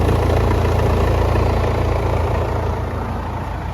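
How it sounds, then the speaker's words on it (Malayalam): A 2015 Mercedes GLA with a 2-litre diesel engine runs loud and close, holding a steady, even rumble with little change in pitch. "കണ്ടില്ലേ, ഇതാണ് ഈ ഒരു എഞ്ചിന്റെ സൗണ്ട്"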